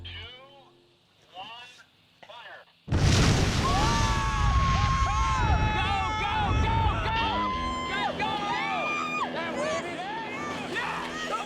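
A huge explosion at sea throws up a wave for a robot surfing test: a sudden loud blast after a few seconds of near quiet, followed by sustained roaring rumble with shouting and excited voices over it.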